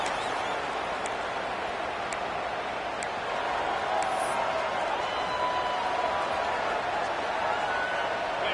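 Dense, sustained roar of a college football stadium crowd at an Ole Miss game, a broad steady wash of cheering with a few sharp accents, under a voice talking.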